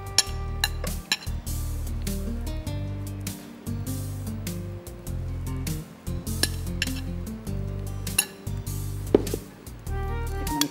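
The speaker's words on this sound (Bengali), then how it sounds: "আমি রাইসটার একটা লেয়ার দিচ্ছি" Cooked rice being spooned in a layer into a cooking pot: repeated metal spoon clinks and scrapes against the pot over a steady low hum, with brief pauses between scoops.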